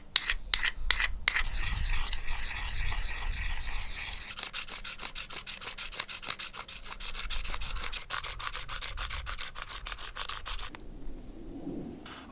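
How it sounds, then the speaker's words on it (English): Soft soapstone ground against sandstone by hand for an atlatl weight makes a close, continuous scratchy rasp, rubbed in quick repeated strokes that speed up midway before stopping. "We are going to grind this soft soap-like stone on sandstone and just slowly work at it to get the shape that's desired."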